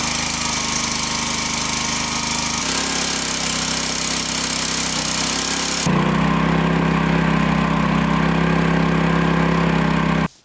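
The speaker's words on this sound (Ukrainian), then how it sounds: "двигун крутить масляний насос, який создає великий тиск" A homemade hydraulic log splitter's engine runs, driving an oil pump, a loud steady mechanical drone with a rapid hammering rattle that shifts pitch midway and cuts off abruptly at the end.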